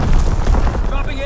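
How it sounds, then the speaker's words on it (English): Mortar rounds exploding in the video game Call of Duty: WWII, a dense, continuous rumble of heavy booming blasts and battle noise, loud throughout the short stretch. "Sending mortar rounds."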